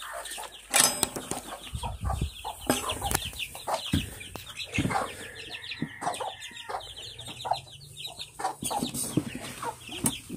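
Brown-red chicks and chickens clucking and chirping around a farm feeder, busy overlapping calls with occasional wing flaps and clatter, close and fairly loud, no talk.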